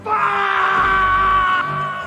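A man named Derek lets out a loud, sustained scream of pain, caught in a trap set by a boy in a thriller film. The anguished cry is close and strained, tapering off near the end.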